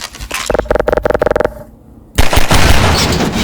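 A mounted gun in the video game Portal fires a rapid burst of loud, evenly spaced shots, then a brief near-silence and a sudden heavy booming blast that gives way to a loud noisy rumble.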